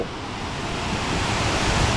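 Steady, dense rushing of water, a continuous roar of the nearby Tad Khu waterfall in Pakxong, Champasak, Laos, with no voices.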